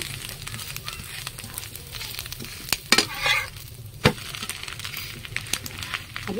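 Paratha fries in a pan with a constant dense sizzle, and a few sharp clicks and scrapes from turning it cut through. No talk is heard.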